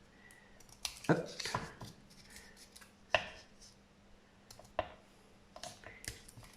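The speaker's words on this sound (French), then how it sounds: "Là, je coupe de travers." Scissors snip diagonally through fabric for a simple pouch, giving scattered sharp clicks and crunches at irregular intervals, fairly quiet, with a brief spoken word.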